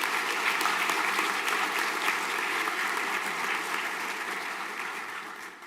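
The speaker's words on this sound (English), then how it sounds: "Can we give these students another round of applause" A school prizegiving audience applauds students with sustained, dense clapping that holds steady for several seconds and then slowly tapers off toward the end.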